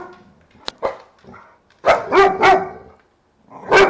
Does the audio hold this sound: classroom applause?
no